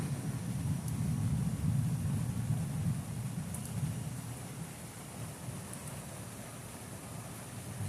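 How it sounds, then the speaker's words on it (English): A thunderstorm rumbles low and distant, a deep rolling thunder swelling early then fading, over a faint constant hiss of rain; quiet overall, with no talking. "You hear the thunder?"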